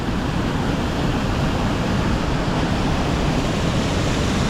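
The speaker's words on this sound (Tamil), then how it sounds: "ஆனால் இங்கே சரியான ஃப்ளோ தண்ணி," Water of Hogenakkal Falls rushes in a dense, unbroken roar, a steady wash of turbulent flow heard close and loud with no voices or other sounds rising above it.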